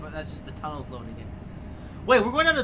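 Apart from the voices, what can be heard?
None of the usual background noises is heard.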